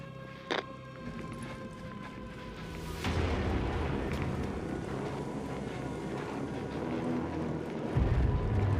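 A video game explosion in Dead4 Returns, a zombie survival shooter: a sudden broad roaring burst that swells and rumbles on under a steady noisy wash, with a heavier low thump near the end.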